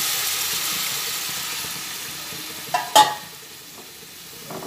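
Water is poured into frying pointed gourd in a spice mix, a soft continuous sizzle fading gradually, broken by a sharp sudden hiss burst near the middle before settling to a low simmer.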